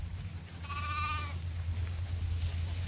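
A sheep bleats on a farm where a ram is pressing a ewe to breed: one wavering, quavering call lasting under a second, clear over a steady low hum of background noise.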